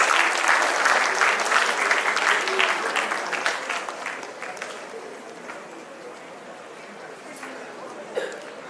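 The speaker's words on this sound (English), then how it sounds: "A well-deserved applause for them, please." An audience at a school awards ceremony applauds a second-place school, the clapping loud and dense at first, then gradually thinning and fading out.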